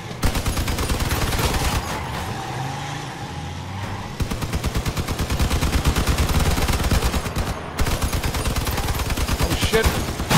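Rapid, loud bursts of automatic gunfire from the vehicle combat game Crossout, dense rattling volleys with brief gaps, over a rumbling engine, close and continuous.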